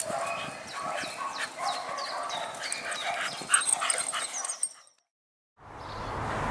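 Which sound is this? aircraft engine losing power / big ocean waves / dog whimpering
dog whimpering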